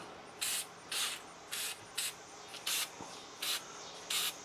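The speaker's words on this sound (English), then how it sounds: "Then I'm going to put a little of this rust and corrosion protection" Rust and corrosion protection sprayed onto an older camper around panhead screws, in about eight short, evenly spaced hissing bursts close to the mic, each roughly half a second long, with quiet pauses between.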